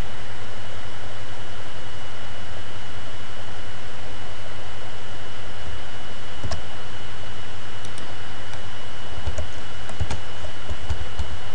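Keys clicking on a computer keyboard as a bookmark name is typed in Microsoft Word, with sparse taps emerging from a steady hiss and hum, most noticeable in the second half, with no voices.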